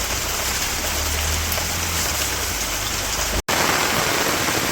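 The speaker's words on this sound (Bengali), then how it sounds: "বৃষ্টি নামছে বৃষ্টির মধ্যে কাজ করতে গেলে আইগানি কেন পিছিয়ে যাবে" Steady rain falls on a village yard, a dense, even patter close by with no pauses apart from one instant dropout, and no voices.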